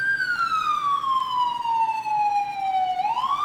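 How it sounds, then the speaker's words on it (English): Emergency vehicle siren in the EmergeNYC game, a loud close wailing tone that slowly falls in pitch, then sweeps sharply back upward near the end, with no voices. "Apparently he doesn't care about my siren."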